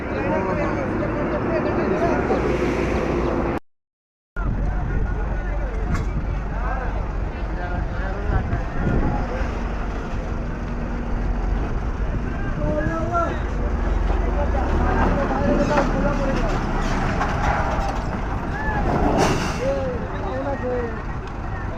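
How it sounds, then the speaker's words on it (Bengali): A vessel on the water at Gangasagar takes on cars and other vehicles, giving a steady low rumble of engines and vehicle noise with a brief break, while people talk throughout. "আমাদের বোট লোড হচ্ছে"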